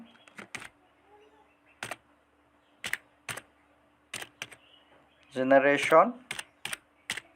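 Keys on a computer keyboard are pressed in scattered single taps and short bursts, crisp and close, with a brief stretch of a voice speaking partway through.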